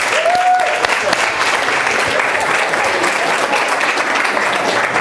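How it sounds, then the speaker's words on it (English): A room of people at a community hero recognition event applauds, a dense steady clatter of clapping hands that stays loud and even from start to finish, close by, with no talk. "So how about a round of applause for everybody in the room and the Chamber who..."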